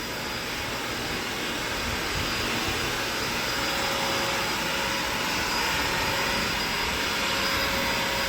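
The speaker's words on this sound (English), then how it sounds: "She's vacuuming to remove any kind of lint." A vacuum cleaner runs continuously on a garage floor during prep work for staining, a loud, steady, unbroken roar with a faint whine, close up and alone.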